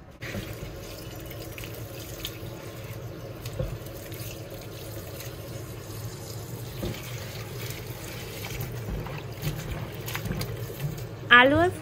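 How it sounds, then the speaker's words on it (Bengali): A chopping board and knife are rinsed under a running kitchen tap, water splashing and trickling steadily throughout with a person talking over it. "কাটাকাটি শেষ করে চপিং বোর্ড আর চাকু ধুয়ে রাখছি"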